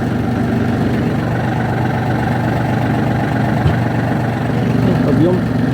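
Yanmar AF-322 mini tractor with a 150 cm rotary tiller, its engine idling steadily and close by while the hitch is lowered and raised, with someone speaking over the drone.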